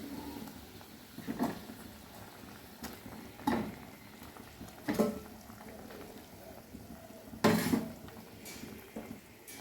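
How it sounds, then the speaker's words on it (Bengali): Hilsa fish curry broth boils in a pot, giving soft bubbling and occasional louder clinks and pops, as if a utensil were tapping the pot, heard alone at a close, moderate level. "এবারে ঝোলটা ফুটে গেছে আমি মাছগুলো দিয়ে দিচ্ছি"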